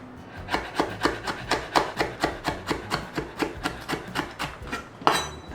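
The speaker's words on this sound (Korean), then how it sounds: "고추 반 개만, 홍고추 이렇게 다져줄게요" Kitchen knife mincing half a red chili pepper on a cutting board, rapid regular chopping taps about four per second, close and clear, ending on a sharper knock, with no talk.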